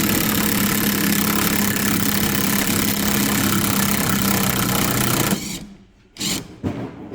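A newly installed motor runs loudly and steadily in an industrial maintenance setting, a constant mechanical hum that cuts off abruptly after about five seconds, followed by a few brief clunks and fading rumbles.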